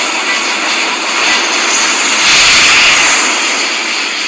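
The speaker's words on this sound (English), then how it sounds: "We're just gonna fly over in the plane." An airplane roars overhead in a loud, steady broadband rush that swells slightly near the middle as it passes.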